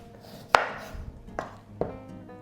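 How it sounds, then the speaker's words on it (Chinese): A kitchen knife chops a cucumber on a cutting board: three crisp, separate knocks spaced out unevenly, close and clear against a quiet room with no talking. "然后我要切黄瓜"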